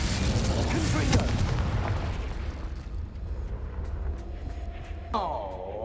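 A booming fiery blast from the Confringo spell in Hogwarts Legacy rolls out loud and heavy, then decays into rumbling debris with a short magical shimmer near the end.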